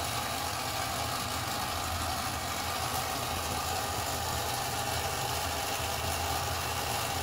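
Motor of a 3D-printed 1/144 scale radio-control model of the Imperial Japanese Navy destroyer Akizuki, a steady, even mechanical hum running unbroken and fairly quiet throughout.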